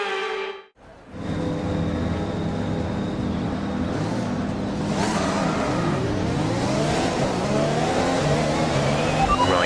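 A Formula 1 car in the F1 2021 game fires up after a brief silence and climbs through the gears on track, its loud, close engine note rising and dropping repeatedly with each shift, heard alone.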